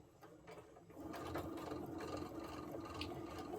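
A sewing machine back-tacks a seam on a spring bargello table runner, its needle mechanism chattering in a steady, close mechanical whir that grows louder after the first second and runs continuously without talk.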